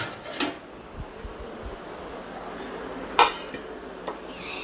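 A plate being taken from a kitchen rack: a few sharp clinks and clatters of dishware, with one louder knock midway, over a steady background fan hum, no talking.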